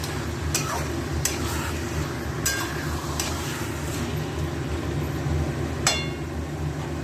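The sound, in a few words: stirring potatoes and meat in a cooking pot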